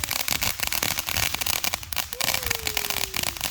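Backyard consumer fireworks crackle and pop in dense rapid bursts, loud and close, with a rising whistle streaking through the middle and excited voices in the background.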